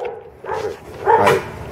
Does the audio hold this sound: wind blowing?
no